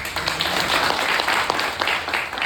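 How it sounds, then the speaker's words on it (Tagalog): A congregation gives a loud round of applause at a church gathering, dense continuous clapping throughout, near and sustained. "Isang malakas na palakpak."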